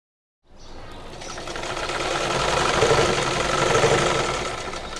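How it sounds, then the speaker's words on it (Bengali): A sewing machine stitches the side seam of a designer sleeve, running in one steady, loud, continuous burst with a mechanical hum and rapid needle chatter that begins just after a brief silence. "এখন আমি সাইড থেকে সেলাইটা করবো"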